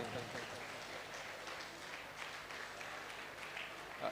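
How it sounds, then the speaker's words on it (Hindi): An audience at a Ranchi Archdiocese youth programme claps steadily for about four seconds to welcome a guest, a soft, even patter of many hands heard at a distance. "एक बार जोरदार तालियों के साथ"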